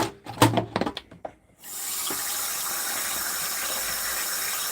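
Water pours steadily into a 2 litre plastic bottle as a continuous, even rushing hiss, preceded by a brief burst of clattering and handling knocks.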